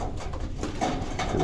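Several trained pigeons, five birds, take off outdoors in a short continuous stretch of fluttering wing noise that stays steady and fairly loud throughout, with a few soft cooing notes near the end.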